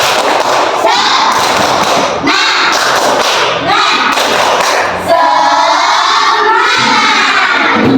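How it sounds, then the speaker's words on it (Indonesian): Schoolchildren in a classroom performing the tepuk semangat clapping chant, loud rhythmic group claps and thuds with shouted chanting voices, close and energetic throughout. "Ustazah cek semangatnya. Tepuk semangat."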